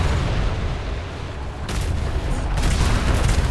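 Ship cannons in a naval video game fire at an enemy vessel as loud booming volleys over a dense rumbling background, with sharp bursts breaking in partway through.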